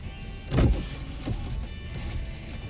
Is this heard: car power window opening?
yes